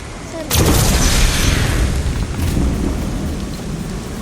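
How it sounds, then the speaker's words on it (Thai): Heavy rain roars steadily in Lego Fortnite, broken by a sudden loud thunderclap that rumbles on under the downpour. "คุณอย่าไปตากฝนนะ"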